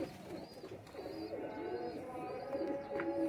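Golden Heera Lal type pigeons coo softly in a bird loft, with low, repeated rolling coos and a faint voice in the background.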